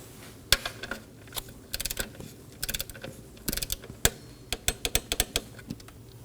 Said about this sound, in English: And torque this down to 62 inch-pounds.